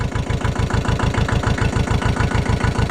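An Allis-Chalmers 5020 tractor engine idling, a loud, close, even low chugging with a fast regular pulse that holds steady throughout, no voices.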